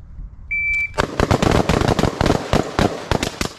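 Rapid carbine shots during a carbine and pistol transition shooting drill, a loud string of sharp, evenly spaced cracks fired close by after a short electronic timer beep.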